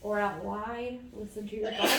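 A single sharp sneeze bursts out at the very end, right after steady spoken instruction during a summer yoga session.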